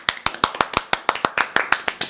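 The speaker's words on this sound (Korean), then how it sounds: "박수!" Applause for a guest on a Korean show, a small group clapping in a quick, fairly regular rhythm of sharp, close claps, about a dozen in a row with no talk.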